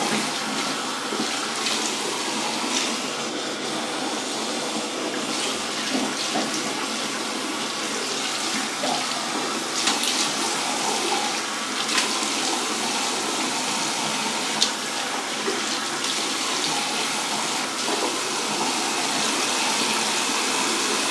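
Steady running water during a pre-wash, a continuous close hiss and splash from a tap flowing unbroken for about twenty seconds with small splashing variations.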